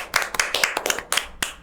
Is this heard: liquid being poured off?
no